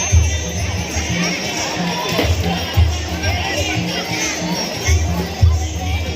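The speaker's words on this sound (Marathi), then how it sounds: "हे बघा ही गर्दी किती आहे" A dense crowd of devotees at a Datta temple on Datta Jayanti fills the space with continuous babble and chatter, with light clinks and thumps rising through the steady background noise; a voice speaks over it.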